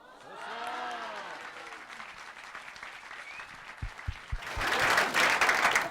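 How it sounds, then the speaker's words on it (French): A public audience at a televised rural event in Saint-Trivier-de-Courtes applauds, starting faintly under a voice and swelling into fuller, louder clapping toward the end. "Nous entendons les applaudissements jusqu'ici"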